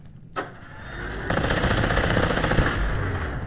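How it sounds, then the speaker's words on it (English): A Tesla heavy cannon fires in a video game: a short crack, then a sustained loud crackling electric roar that buzzes on without pause to the end. "Yeah, here it is. Tesla heavy cannon."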